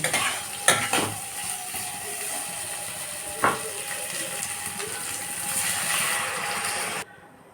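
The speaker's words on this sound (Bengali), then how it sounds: "অল্প একটু নাড়াচাড়া করে জল দিয়ে দেব" A spoon stirs potatoes with chopped tomato, salt and turmeric in a pan. A soft, steady sizzle runs under a few sharp scraping knocks of the utensil against the pan before the sound cuts off.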